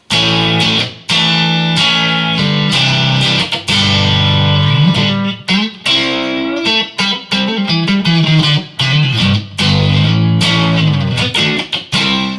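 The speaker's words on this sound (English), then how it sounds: "Now we engage only the neck pickup, sounds like this." Heavily distorted Harley Benton TE-70 Telecaster with Fender Texas Special pickups, neck pickup only, with a warm, rounder tone plays choppy chord riffs with frequent short pauses, loud and close.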